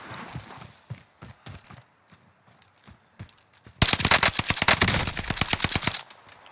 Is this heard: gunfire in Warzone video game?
yes